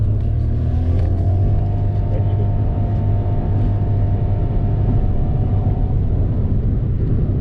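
A Nissan Kicks e-Power car being driven with accelerator and brake inputs, heard from inside as a steady low road rumble and a soft motor hum, continuous and fairly loud, with no voices.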